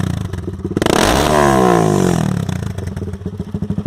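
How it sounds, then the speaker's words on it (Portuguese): A Honda CB Twister motorcycle fitted with a Jeskap GP Carbon exhaust revs up loudly nearby, rising to a sustained roar and dropping back to a lumpy, popping idle. "a moto tá fazendo um barulho estrondoso"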